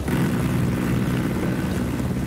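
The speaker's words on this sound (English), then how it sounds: "Helicopter overhead." A helicopter flying overhead in the video game Ghost Recon Wildlands gives a steady, loud, low rotor and engine rumble. It holds without a break and has no voices over it.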